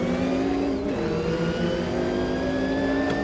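A race car engine in the sim racing game Automobilista 2 revs loud and close, a steady high-pitched drone with a brief dip as it shifts, then climbs smoothly on throttle.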